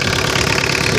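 Mazda RF 2.0-litre diesel engine fitted in a 1985 Ford Escort, idling steadily at close range with a dense, even clatter and no talk over it.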